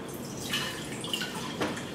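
Fermented water kefir, amber from brown sugar, poured as a faint liquid trickle with a few soft drips and splashes, quiet and close, no voices.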